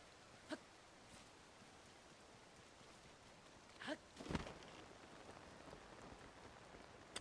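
Steady rain falls in the open world of The Legend of Zelda: Tears of the Kingdom, a soft continuous patter with a few brief louder drops and splashes, with no one speaking.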